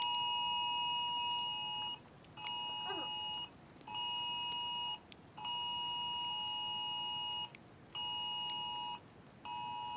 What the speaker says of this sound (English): That's a phone going off.